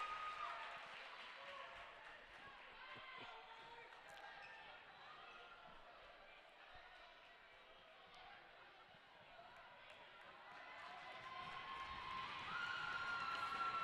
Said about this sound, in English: Mark Twain crowd making as much noise as they possibly can.